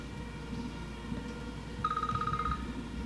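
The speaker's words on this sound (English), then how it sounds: "we hear your phone" A phone rings faintly far off up a mountain, a short burst of rapid trilling tones rising above steady outdoor background noise.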